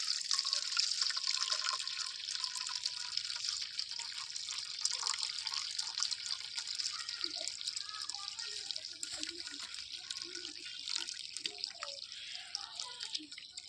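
Lukewarm water trickles and splashes steadily into a pigeons' drinking bowl, a continuous close pour that thins toward the end, with no talk over it.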